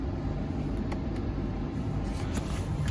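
A Honda Element engine idles after a cold start, a steady low rumble that holds at an even level throughout, close by with no talking.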